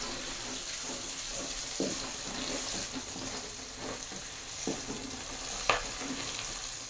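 Chilies stir-frying in a pan with petai already cooking, a steady close sizzle punctuated by a few scraping stirs of the spatula, no voices.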